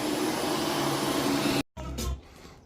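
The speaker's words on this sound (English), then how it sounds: "everything's been vacuumed front and back, left and right, and a few times just to see what I can get" A vacuum cleaner working over an area rug drones steadily and loudly, then cuts off abruptly, followed by a brief lower rumble and quiet handling noise.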